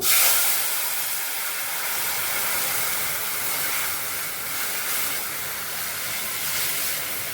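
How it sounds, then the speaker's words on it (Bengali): Dal poured slowly into a hot pan of fried mustard seeds and dried red chillies hisses loudly and evenly, a broad steady sizzle close by with no talking. "এখন আমি ডালটা আস্তে করে ঢেলে দেব।"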